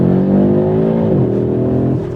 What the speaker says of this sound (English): look at these downshifts. It's so aggressive in the performance mode when you let it do its thing